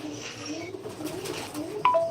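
Pigeons coo in soft, low repeated calls close by, with faint background noise and a brief sharper chirp near the end.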